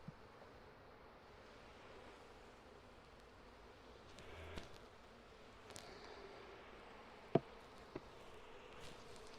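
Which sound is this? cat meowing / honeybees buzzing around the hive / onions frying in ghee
honeybees buzzing around the hive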